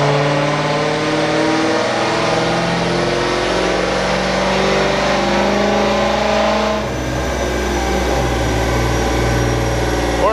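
A Dodge Scat Pack with a stage 2 cam rumbles loudly up close while driving, its choppy engine note holding steady and then shifting as it revs.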